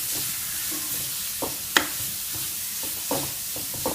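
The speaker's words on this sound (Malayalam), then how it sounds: "ഒന്ന് വാടി വരുന്ന വരെ നമ്മളിത് ഒന്ന് ഇളക്കി കൊടുക്കുക." Carrot thoran frying in a pan with a steady low sizzle, broken by several short scraping stirs of a spoon against the pan and one sharper clack near the middle.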